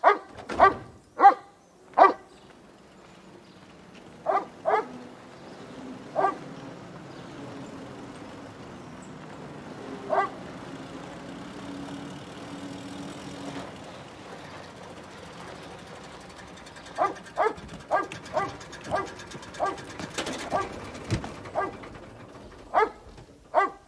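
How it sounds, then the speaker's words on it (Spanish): A cartoon dog in an animated show barks in sharp, loud bursts, first a quick cluster and then scattered single barks, followed by a rapid run of barks near the end over a quiet hum. "¡Se pasa el día y la noche ladrando!"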